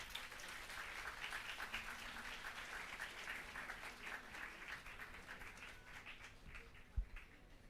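An audience at an engineering institute event keeps up a continuous round of applause, faint and distant, with one sharper knock near the end.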